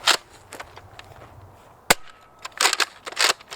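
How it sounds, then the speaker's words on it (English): A Nerf Rival Apollo XV-700 blaster fires foam balls outdoors in a field, with sharp snapping shots and clattering mechanism sounds scattered irregularly, close and fairly loud. "So now we're going to move on to the shooting test"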